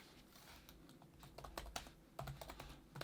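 Typing on the keyboard of a Dell Vostro 7510 laptop: quiet, irregular key clicks in short bursts, close and fairly soft, with no talking.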